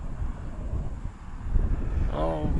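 Wind gusts buffet an open, exposed campsite spot near a bridge in Mongolia, a steady low rumble punctuated by stronger blasts, with a voice speaking briefly near the end.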